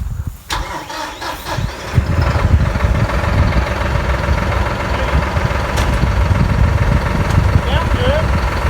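A brand new Massey Ferguson tractor engine cranks and catches, then settles into a steady, close, rumbling idle while people talk nearby.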